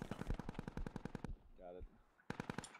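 Close, rapid bursts of automatic gunfire in the military shooter game Squad, a fast rhythmic stream that pauses briefly while a voice speaks, then resumes loudly.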